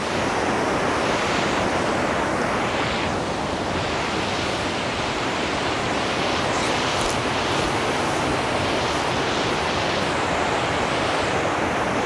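The Chitrakote waterfall on the Indravati River in monsoon roars in a loud, dense, unbroken rush of falling water, close and constant throughout with no talk.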